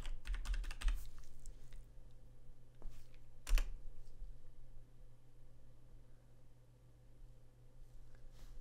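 Computer keyboard typing while a library name is entered into an Arduino library manager: a quick burst of clicks at the start, another keystroke cluster around midway, then quiet room hiss.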